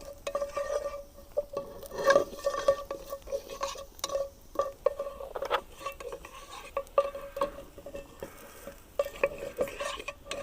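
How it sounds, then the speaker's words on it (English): About a teaspoon of cumin seeds frying in a pan, a busy crackle of irregular pops and sizzles with scraping stirs, close and steady throughout. "I'm just going to cook that until they start popping and release that fragrance"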